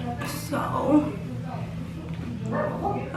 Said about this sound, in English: It's my dog barking.